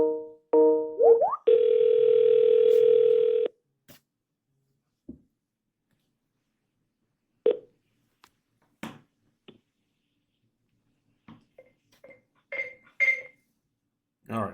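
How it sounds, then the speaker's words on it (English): Steady dial tone over the speakerphone of a Yealink MP54 desk phone, sounding for about two seconds right after a few short keypad beeps, followed by scattered soft taps and clicks. "you can simply dial the telephone number from the touchpad and then use the touch screen and call"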